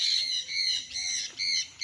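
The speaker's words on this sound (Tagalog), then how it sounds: "Dinig nyo po ang huni ng mga ibon." Birds kept on a green farm in Liliw, Laguna give a series of loud, harsh squawking calls in quick succession, close by and clear, with no talking.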